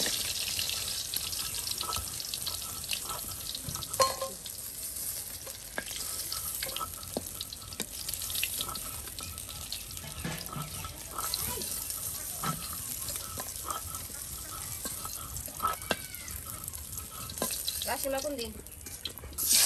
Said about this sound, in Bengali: মাছের টুকরোগুলো এখন বেজে নেওয়া হচ্ছে